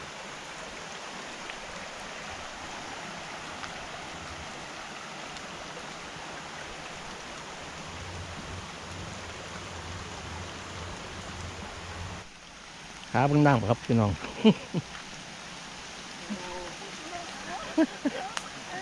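Heavy rain pours down while flood water rushes past in a steady, dense roar that fills the first twelve seconds; after that someone speaks over the quieter flowing water.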